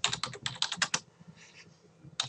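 Close typing on a computer keyboard, a quick run of clicking keystrokes that pauses briefly before a few more key taps.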